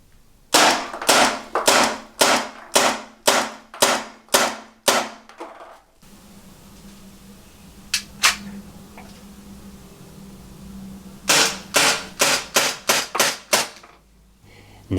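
Concealable handgun with a plastic slide firing a rapid string of about eight sharp cracks, then a lull with two isolated shots, then another quick burst of around six, loud and close.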